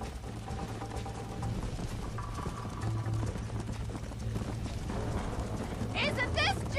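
Horses galloping in the video game Red Dead Redemption, a steady rapid drum of hooves under rumbling background sound, with speech over it and a brief high chatter near the end.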